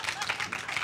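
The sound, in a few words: audience cheering and clapping at a retro gaming expo panel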